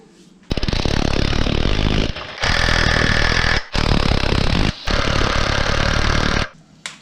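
A Predator engine being tightened down on a minibike makes loud, harsh, rapid mechanical rattling in three or four long bursts separated by short pauses, close by, with no talking.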